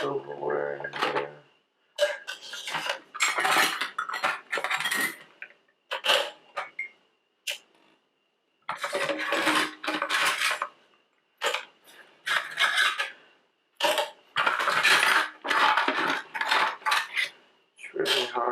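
Silverware clinks and rattles in a sink of soapy water during hand dishwashing, coming in repeated bursts of bright metallic jingling separated by short pauses, with a voice talking over parts of it.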